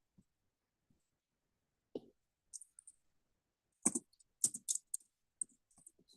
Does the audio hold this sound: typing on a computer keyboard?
yes